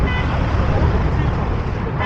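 Road traffic roars past in the hills near Mumbai, a dense, loud, continuous rush of engines and wind buffeting close to a moving bike, with no clear voices.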